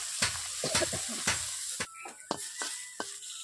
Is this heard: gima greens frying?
yes